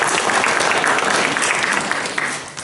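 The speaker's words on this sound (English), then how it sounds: "give him a applause" Audience applause for a blues poet at a Chicago gathering, a dense, steady wash of clapping that fills the whole stretch and fades slightly toward the end, with no talk over it.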